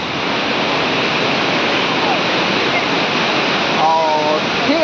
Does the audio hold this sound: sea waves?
yes